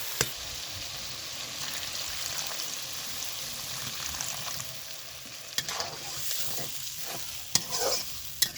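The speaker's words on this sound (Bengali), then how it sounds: "এবার এইখানে দিয়ে দেবো পরিমাণ মতো জল" Water poured into spice paste frying in oil, a faint bubbling sizzle with occasional stirring scrapes and a few clinks, no one speaking.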